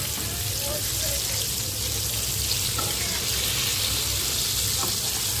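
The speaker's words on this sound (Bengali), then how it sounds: "এখানে ডিম দিয়ে ময়দা দিয়ে কোটিং করে ফ্রাইটা ভেজে নিচ্ছি।" Marinated fish coated in egg and flour deep frying in hot oil, a steady dense sizzle holding evenly throughout with faint bubbling pops, close by and continuous.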